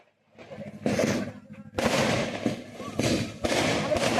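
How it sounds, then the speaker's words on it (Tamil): Sharp firecracker blasts in an open outdoor spot, a few loud bangs with crackling bursts and a short gap between them, with people talking nearby. "இதுவரை பார்த்த வெடினா இந்த வர வெடி பாருங்க."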